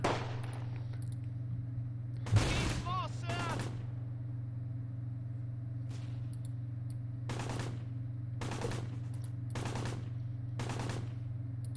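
MG42 machine gun fire in the Close Combat World War II strategy game: several separate short bursts over a steady low hum, moderately loud and fairly close.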